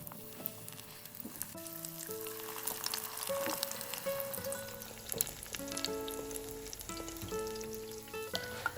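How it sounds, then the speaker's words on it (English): Store-bought pre-fried shrimp tempura crackles in hot oil with a soft, steady sizzle, heard faintly beneath more prominent melodic background music. "I simply fried them for 2 minutes and shrimp tempura is done"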